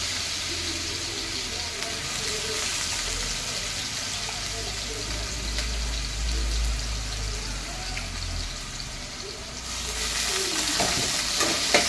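Potatoes frying in hot oil with cumin, a constant close sizzle with stirring scrapes and occasional bubbling, swelling louder toward the end.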